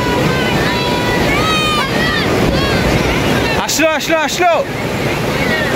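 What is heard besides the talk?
ocean waves on a beach at night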